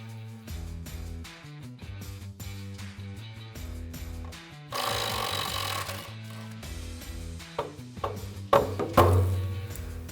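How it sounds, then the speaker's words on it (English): A tie rod end comes off the suspension of a Toyota FJ Cruiser during a leveling kit install: repeated close metallic knocks and tool clatter, then a harsh grinding burst midway and a few sharper strikes near the end. "Next, we're going to remove the tie rod end."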